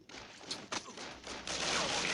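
Bursts of gunfire in the video game Crisis Action crackle in short sharp volleys, followed by a sustained roaring blast, fairly faint and without voices.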